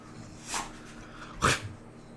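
A dog indoors gives two short separate barks about a second apart, close by and moderately loud against a quiet room.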